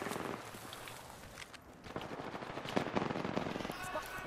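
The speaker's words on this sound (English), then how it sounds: "Opening fire on the enemy" Rapid gunfire from a firefight in Apex Legends crackles in quick bursts, with dense automatic shots growing louder toward the end.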